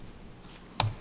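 A single crisp click of the Enter key on a computer keyboard sounds near the end, close and sharp, after faint quiet room tone.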